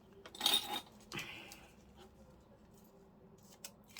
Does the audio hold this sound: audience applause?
no